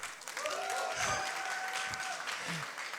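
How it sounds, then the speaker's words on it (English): Audience applause at a Science Slam evening, a steady burst of clapping from a crowd lasting a few seconds, moderately distant and fairly even throughout. "Big applause for Jay."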